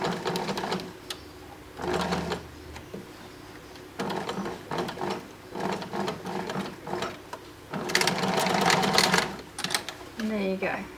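A sewing machine stitching a lock-off on a dress being altered into a tunic, short bursts of rapid mechanical needle clatter starting and stopping, with a person talking in between.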